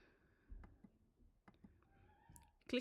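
Several sharp mouse clicks on a computer while working in Tableau dashboard software, spaced irregularly and fairly quiet, with a louder burst of clicking near the end.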